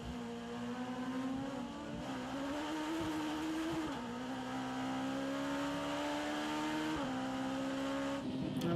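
Mitjet race cars lapping a circuit, a loud sustained engine drone with shifting pitch as gears change and revs climb, one car holding close and steady throughout.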